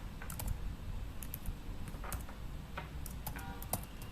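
Computer keyboard typing code for a spiral matrix program, with quick irregular bursts of close key clicks and pauses, no talking.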